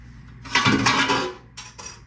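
A metal pan handled after cooking stuffed mushrooms, with clanking and scraping clatter for about a second, a brief pause, then another shorter knock, close and fairly loud with no voices.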